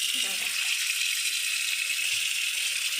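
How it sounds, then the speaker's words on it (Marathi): Water runs steadily from a newly fitted kitchen tap, a constant close hiss filling the sink without pause. "हा कॉक असा चालू केला की पाणी येतं असं पाणी येतं"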